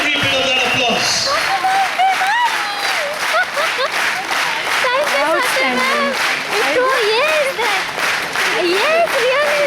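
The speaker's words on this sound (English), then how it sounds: "Keep that applause going for all these teams" Sustained applause from a big crowd, dense clapping running throughout with voices shouting and talking loudly over it.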